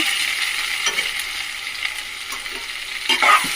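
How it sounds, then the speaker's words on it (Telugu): Ivy gourd, later joined by potatoes for a dondakaya fry, sizzles steadily in a pan, with a few louder stirring scrapes near the end and no voices. "ఒకసారి చూద్దాం దొండకాయ ఎలా ఫ్రై అయ్యిందో"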